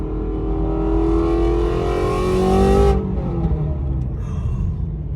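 A Shelby GT350 fitted with Kooks headers and an X-pipe exhaust revs hard, its loud engine note climbing over about three seconds before dropping off sharply into a lower rumbling idle, close and with no one talking.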